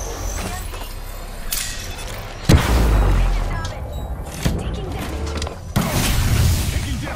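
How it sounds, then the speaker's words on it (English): A grenade blast and gunfire on King's Canyon in a video game: one loud explosion near the middle, with scattered shots, mechanical clatter and game noise around it. "Heads up, grenade!"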